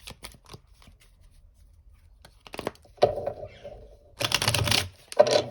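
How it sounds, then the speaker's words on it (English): Tarot card shuffling in a few bursts: a brief riffle, a pause, then a longer, louder flurry of flapping and snapping cards, close by. "I'm going to do one last shuffle."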